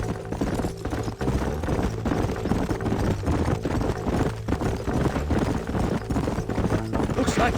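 Horses gallop in a Red Dead Redemption game scene, with a steady rapid clip-clop of hooves and a low musical score underneath throughout.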